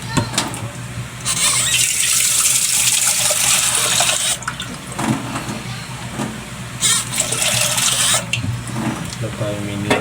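Tap water runs steadily into a sink in a home kitchen, a broad hiss that rises and falls in bursts with brief pauses, while a person talks over it nearby.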